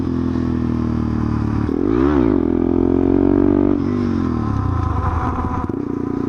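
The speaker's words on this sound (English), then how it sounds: "This bike is pretty damn loud." A KTM 690 Duke motorcycle engine drones loudly and continuously while riding on dirt, with a rising-and-falling rev near two seconds and rattling, scraping clatter throughout.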